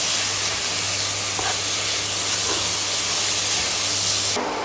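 Goat blood fry being sautéed in a pan gives a dense, steady hiss of sizzling, close and even throughout, ending with a sudden brief change at the end.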